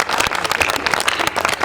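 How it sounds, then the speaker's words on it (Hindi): An audience claps together to welcome the poet Mani Madhukar Moosal onto a Hindi comedy poetry stage. The applause is dense, steady and sustained, with no voices over it. "आप चाहें तो जोरदार तालियां बजा करके।"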